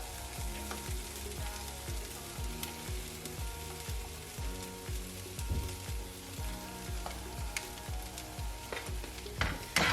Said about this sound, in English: give that a good stir for around a minute